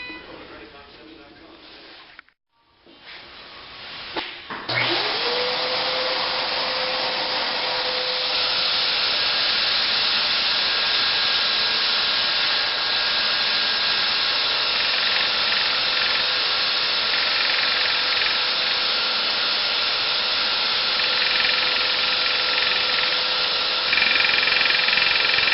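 A power sander whirs up to speed after a brief pause and then runs loudly and continuously while sanding a ferro rod, its motor whine holding steady throughout.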